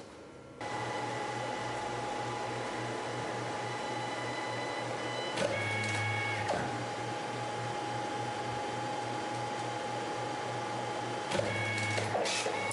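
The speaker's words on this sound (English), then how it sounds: "that's going to print the finished product off on the Mitsubishi CP3800" A Mitsubishi CP3800 dye-sublimation printer prints a sign, giving a steady mechanical hum with a constant whine. Louder clicks and shifts of the mechanism come around the middle and again near the end. No one speaks.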